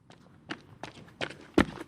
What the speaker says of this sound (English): then I heard footsteps behind me